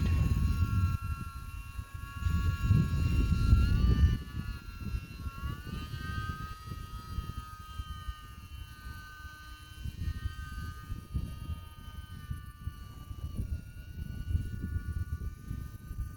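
A small E-flite UMX Timber X RC airplane with night lights flies outdoors, its thin electric motor whine holding steady and shifting in pitch as it passes, louder early on and easing off, with light wind in the background.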